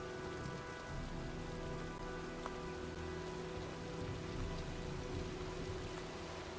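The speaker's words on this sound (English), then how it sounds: "looks like a storm's coming" Rain and storm in the video game Heavy Rain: a steady, dense hiss of rainfall pattering on surfaces, continuous and even throughout, with no distinct thunder.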